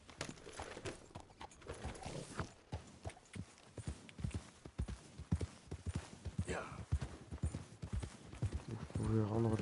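Horse hooves clip-clop in the Red Dead Redemption video game as a steady rhythmic trot under a voice talking, with game music swelling near the end.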